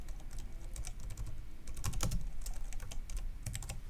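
Someone typing on a computer keyboard while writing code, irregular clusters of close key clicks over a low steady background hum, with no speech.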